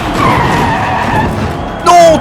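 A diecast toy Corvette race car skids on a miniature track while rounding the last bend and tangles on the rails, giving a scraping rush with a short high squeal at the end, with a voice commentating throughout.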